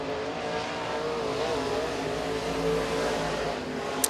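Race car number 9, driven by Corey Hedgecock, on a single qualifying lap at Rome Speedway, its engine droning steadily at moderate distance for the whole stretch with a sharp pop near the end.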